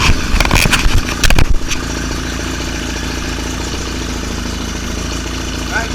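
A 1966 Evinrude 33 HP Ski Twin outboard motor runs steadily at idle with a continuous mid-pitched drone, after a brief louder burst of clatter at the start.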